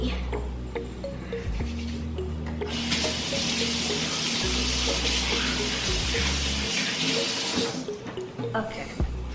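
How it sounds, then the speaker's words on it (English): Hands are washed under a running kitchen tap before making pancakes. A bright gush of water flows for about five seconds and then cuts off, with faint background rumble before and after. "I'm gonna wash my hands so the chocolate chips don't get dirty"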